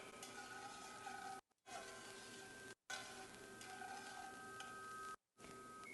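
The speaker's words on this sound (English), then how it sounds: "We're just going to stir this around till our garlic is evenly coated." Garlic sizzles softly in melted butter as it is stirred, a faint steady crackle broken by a few short gaps, with quiet scraping and a thin hum underneath.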